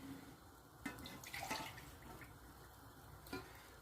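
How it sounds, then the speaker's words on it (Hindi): Chilled cold water runs into a tea pan while Kashmiri pink tea is being made, a soft steady pour with a few light splashy knocks, fairly quiet and alone. "हम इसमें 2 कप भर के ठंडा पानी डालेंगे।"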